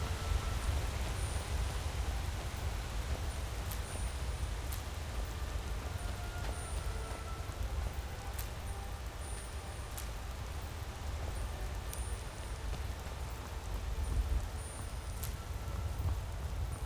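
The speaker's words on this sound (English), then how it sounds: "a bit of rain never killed anybody it didn't give pneumonia to." Rain falling in the video game Skyrim, a steady, soft hiss that stays even throughout, with occasional faint ticks of drops and a low rumble underneath.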